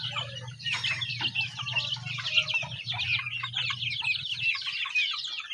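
A busy chorus of poultry calls, honking and clucking continuously at close range, with many birds overlapping.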